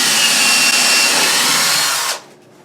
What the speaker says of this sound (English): you're going to drill through